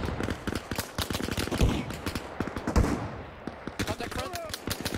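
Gunfire in the video game Arma Reforger: rapid, dense volleys of sharp shots and bursts from close and mid range, with a couple of heavier cracks, mixed with brief voices.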